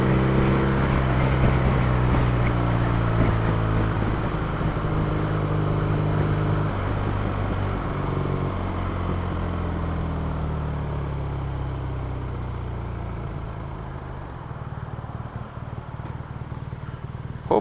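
A 2016 BMW R nineT motorcycle's exhaust drones steadily while riding, a close, continuous engine note whose pitch sags gradually toward the end with no talking.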